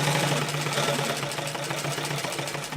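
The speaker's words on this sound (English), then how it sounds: "now I'm going to sew back across those first 2 stitches I just made and finish my seam" A sewing machine runs steadily as it stitches back over the first two stitches to lock a seam, a fast, even mechanical whir with rapid needle pulses, loud and close.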